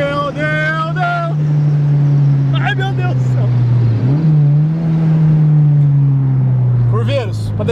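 A naturally aspirated Chevrolet Monza engine drones loudly and steadily, its pitch dipping and rising again as it accelerates, with voices talking over it at moments.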